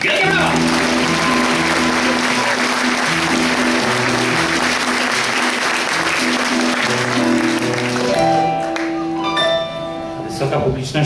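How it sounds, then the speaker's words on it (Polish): Audience applause at a concert, a loud, sustained wave of clapping over music with tonal instrument notes, thinning out toward the end as the music carries on. "Wielkie brawa!"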